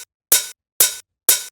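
A hi-hat sample from a drum mix strikes three times at an even pace, each hit short and bright with a quick decay, and silence between the hits.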